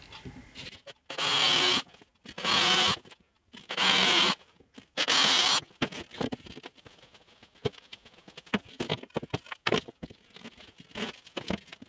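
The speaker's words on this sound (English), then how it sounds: "Just drill a few holes" A power drill whirs in four short bursts, each a second or so, drilling holes in a guitar-neck shaping jig, followed by tapping and handling noises of tools nearby.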